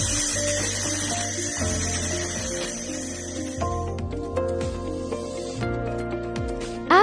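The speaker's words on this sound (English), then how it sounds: "Then you can start the laser cleaning process." A 2000W handheld 4-in-1 laser welding machine running in laser-cleaning mode gives a steady, loud whine with layered tonal hums and shifting pitches, joined by a brief hiss near the end.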